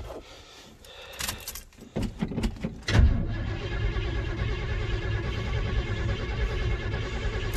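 A 1978 Chevy farm truck with a GM Performance crate 350 and small battery cranks over: clicks and clunks of keys first, then a steady, continuous starter grind that keeps churning without catching.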